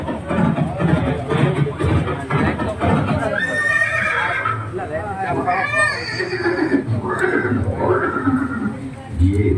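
Chetak, Maharana Pratap's horse, neighs in a couple of loud, rising whinnies, with a voice talking over and between them throughout the scene at Haldighati.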